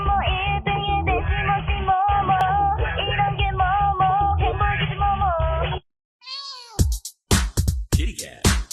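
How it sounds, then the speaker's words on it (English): A cat meows in a long, wavering run of loud cries, then after a short pause gives several sharper, higher meows in quick succession, close up and with no talk. "Kitty cat."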